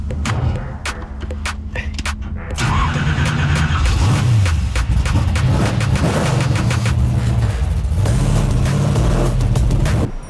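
A purple, fuzzy, furry car in a video game drives along with a loud, wavering engine drone that rises and falls, broken by sharp clicks and skidding noises, with little talk.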